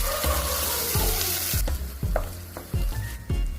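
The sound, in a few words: tomatoes added to a frying masala, sizzling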